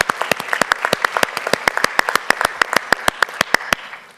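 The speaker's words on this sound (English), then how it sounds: "Let's give them all a round of applause." Applause from an audience at a Transformative Latino Leadership Lecture honoring the event staff: steady, sharp hand claps over a dense crowd wash, close and lively, without talk, fading near the end.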